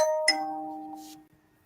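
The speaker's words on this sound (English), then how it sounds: "You hear that doorbell?" A two-tone electronic doorbell chime rings once, the notes sustaining briefly and decaying into quiet.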